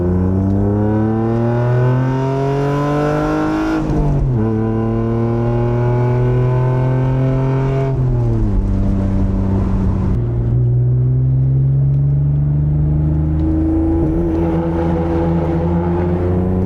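A BMW E46 drives and accelerates, its engine climbing in pitch through several gears with clear drops at each shift, loud and close throughout with no speech.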